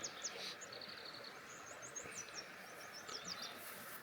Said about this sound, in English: Birds are out